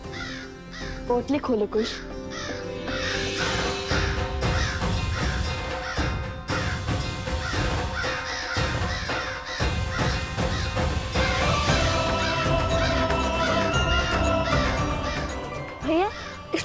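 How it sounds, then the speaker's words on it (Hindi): Crows cawing repeatedly and close by during an outdoor Hindu ritual offering, their calls mixed with a steady background bustle while people talk throughout. "काक तो आ गए, पर अब हमें इन्हें पिंड देना होगा।"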